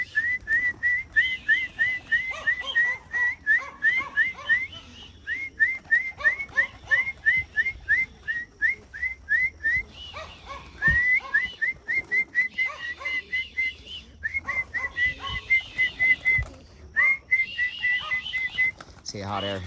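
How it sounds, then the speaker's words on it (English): A person gives a long run of short, sharp, repeated whistles to call pigeons into their loft outdoors, with bursts of rapid whistles broken by brief pauses and faint bird and background sounds beneath. "So let's start whistling."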